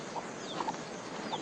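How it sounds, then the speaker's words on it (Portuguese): Hens clucking on a farm with a rooster among them, soft scattered clucks and short calls spread across the moment, fairly quiet and without any talk. "eu vou te mostrar as minhas galinhas"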